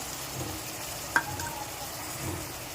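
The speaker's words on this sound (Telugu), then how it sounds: "ఇప్పుడు ఇందులో పాలక్ ఇందాక మిక్సీ పట్టాం కదా ఆ పేస్ట్ వేసుకుందాం" Green palak paste goes into a pan of softened tomatoes and onions and is stirred in, giving a faint, steady low sizzle with one brief spoon knock partway through.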